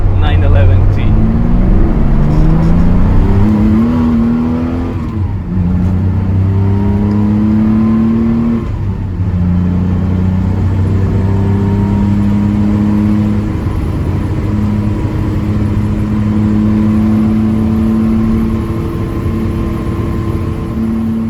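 A 1973 Porsche 911T engine revs and pulls steadily while driving, its loud harmonic drone rising and falling through gear changes over about twenty seconds, close and continuous.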